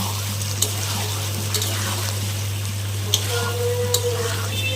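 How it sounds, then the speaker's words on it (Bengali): Water goes into a pan of frying potatoes, producing a steady close sizzle and bubbling with a few small pops and splashes over a low background hum. "একটু জল দিয়ে দিই, জল দিয়ে এখন ভালো মতো আবার কষিয়ে নেব।"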